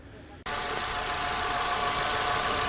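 A Chevy engine with its radiator cap loose fires up abruptly and settles into a loud, steady idle close by, a dense broadband roar with no voices over it.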